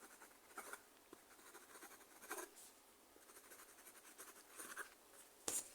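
Pen strokes scratch across paper while face measurements are written down, a few short bursts of close, quiet writing with pauses in between and a sharper tap near the end.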